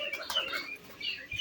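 Pigeons coo and chirp softly nearby, with a brief flutter of wings and a faint background hum.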